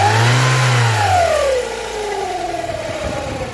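A Rover 45 Impression S3 CVT engine revs up loudly, then falls back as the pitch sweeps down into a rougher, steadier running drone heard close to the engine bay.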